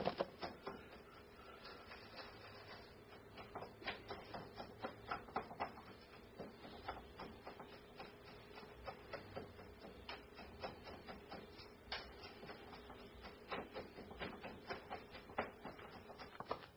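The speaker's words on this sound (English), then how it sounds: "we're going to just go ahead and whisk this up real quick." A whisk beats a bread mixture in a bowl with quick, even clicking taps against the side, a soft, steady rhythm kept up throughout at low volume.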